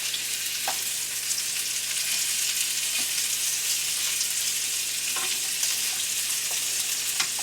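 Onions and peppers sizzle steadily in a pan alongside kielbasa sausage, a continuous close frying hiss with occasional faint pops and stirring touches, no talking.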